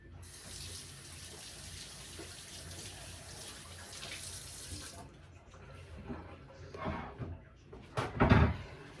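Kitchen water tap running steadily for hand washing, a loud continuous hiss that stops partway through, followed by faint clatter and a short burst of splashing or handling at the sink.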